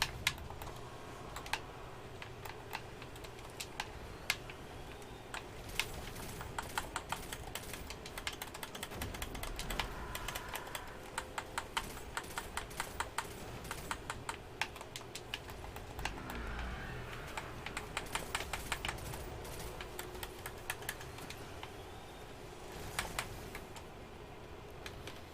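Keys on a computer keyboard clatter in irregular bursts of quiet clicks and taps, fairly close, with a soft room hum underneath and no voices.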